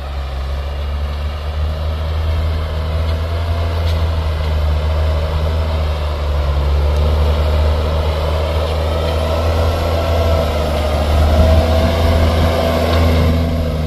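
A 213 hp New Holland T7060 tractor pulling a Brazilian CMT 12-disc harrow with 32-inch discs through dry field soil, a loud, close, continuous diesel drone with deep rumbling and no pauses.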